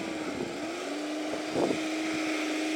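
A Yamaha XJ600 motorcycle engine idles steadily with the choke on. The hum is even and sustained, with a slight surge partway through. Wind noise sits faintly in the background and no one speaks.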